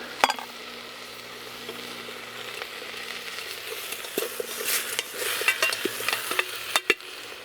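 Beef stew ingredients frying in a pot over a campfire, a steady soft sizzle with scraping, clinking stirs growing busier toward the end, close and alone without talk.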